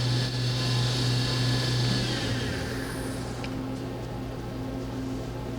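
The spindle of a FADAL 4-axis vertical machining center spins at 7,500 RPM with a steady, fairly loud mechanical whir and high whine. A low tone shifts partway through and the sound eases slightly, heard close by without speech.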